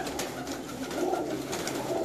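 Soft cooing of an old Sialkoti pigeon close by, low murmuring calls over a steady background hum, no talking.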